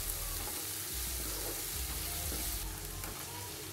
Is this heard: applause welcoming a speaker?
no